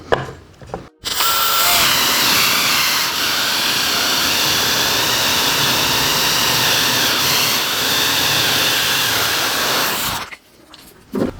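A drill with a 1.5-inch Forstner bit, held in a drill guide, bores into wood for a minecraft-style wooden pumpkin: one loud, steady, continuous grinding whine of about nine seconds that starts and stops abruptly.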